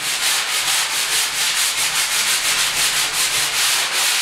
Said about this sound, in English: I can take the fine spot on the sponge, just clean up the edges a little bit